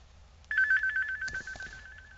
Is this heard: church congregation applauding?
no